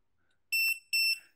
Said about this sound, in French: Donc là, ce qu'on fait, c'est qu'on va brancher l'alarme LiPo.